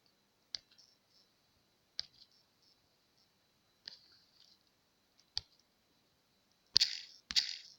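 Sharp mouse clicks on a computer login page, five isolated clicks spaced about 1.5 seconds apart, near and fairly faint, with the last two louder and followed by a brief burst of sound.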